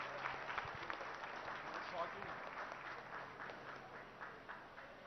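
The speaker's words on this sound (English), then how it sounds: "Could we give a big round of applause to him" An audience applauds at the inauguration of the Radiant LED TV plant with Minister KTR, a steady, fairly faint patter of clapping from many hands that continues evenly throughout.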